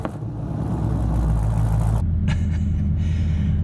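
A fifth-generation Camaro SS with a modified 6.2-liter LS3 V8 fires up and settles into a loud, deep idle rumble up close, then changes to a rougher burbling note.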